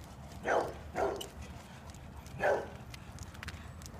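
Three short, soft yaps from a small dog, spaced apart over light outdoor background noise.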